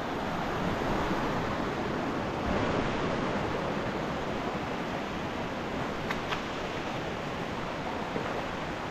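Rushing water at the top of Kaparkan Falls in Tineg, Abra roars as a steady, dense, broadband wash throughout, loud and unbroken with a faint click or two and no talk.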